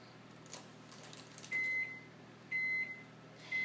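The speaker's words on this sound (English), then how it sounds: "My microwave going off" Three sustained electronic beeps from a microwave oven, each about a third of a second, evenly spaced a second apart, clear and close over a quiet room hum.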